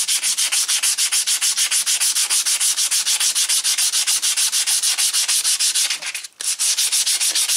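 Guitar frets on a Yamaha Revstar being polished by hand after machine leveling, a steady rapid back-and-forth rubbing with even strokes, close and loud, briefly pausing near the end before resuming.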